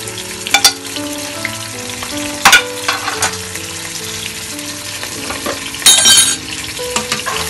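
Ginger garlic paste, green chilies and curry leaves hitting hot oil for a dahi kadhi, a loud close sizzle and spatter with a few sharp stirring scrapes and bursts, no voices.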